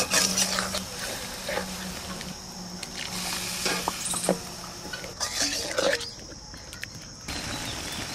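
Sea crab curry masala is stirred in a pan, with irregular scraping and clattering of a utensil against the metal and wet squishing in between, close and fairly loud.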